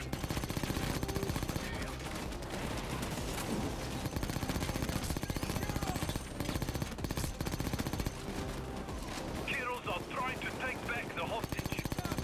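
Rapid gunfire from a PayDay 2 VR shootout during a mall holdout wave, with bursts of automatic shots running continuously and loudly over game noise, and voices present.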